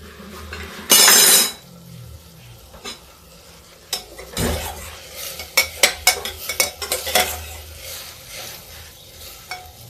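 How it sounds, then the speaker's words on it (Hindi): Chana dal roasts in a pan while being stirred, a brief burst of loud sizzling giving way to sharp metal spoon clinks and scrapes against the pan in an uneven rhythm, with a soft frying hiss beneath. "दाल हमारी भुन रही है, थोड़ा सा और भूनेंगे।"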